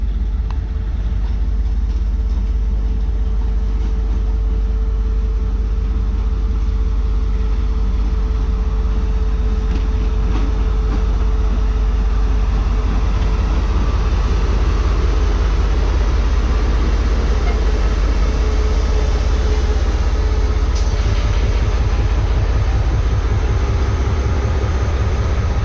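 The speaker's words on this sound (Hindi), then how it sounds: "तो ये लोकोमोटिव आ चुका है ट्रेन के लीड पर लगने के लिए।" A locomotive arriving to couple onto the lead of the Mohen Jo Daro passenger train in Sindh, with a loud, continuous low engine rumble and steady hum throughout and no voices.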